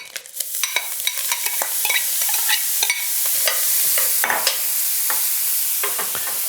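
Chopped mushrooms frying in a pan with salt and pepper, a steady close sizzle with scattered crackles and pops throughout.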